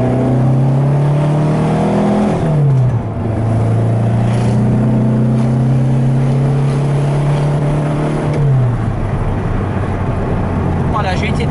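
A car engine drones loudly and steadily, its pitch climbing and then dropping sharply twice as gears shift, with faint voices underneath.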